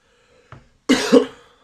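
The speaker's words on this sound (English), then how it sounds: "I'm just having a bit of cough there." A single sharp cough up close, preceded by a faint short throat sound, then silence.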